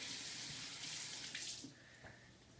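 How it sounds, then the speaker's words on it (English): Running cold tap water splashes steadily into a sink, a soft hiss with faint rinsing shifts as potatoes are washed underneath. "First, I'm going to wash them with cold water."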